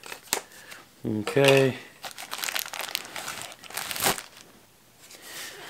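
Tape is peeled and crinkled off the packaging of a Monsterbass Lunkersticks fishing rod, giving a loud close ripping and crackling burst, then softer rustles. Someone says a brief word.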